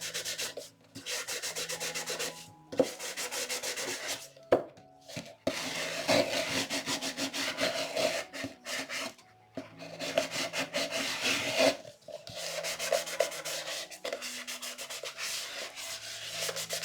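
A Dollar Tree Halloween decoration is sanded by hand to rough up its surface before painting. Repeated scratchy rubbing strokes come in bursts with brief pauses, fairly faint and close.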